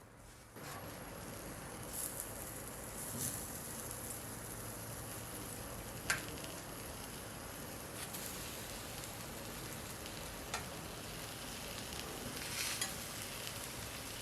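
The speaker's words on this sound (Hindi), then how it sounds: "हम इसे एक गर्म सिजलर प्लेट पर सर्व कर रहे हैं।" Tangdi kebab, chicken drumsticks on a hot sizzler plate, gives off a soft, continuous sizzle with occasional sharp pops and crackles. It is fairly quiet, with no talking.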